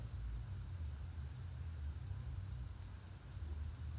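A car engine idling nearby in a driveway, a steady low rumbling drone that holds even and unbroken throughout, with no voices.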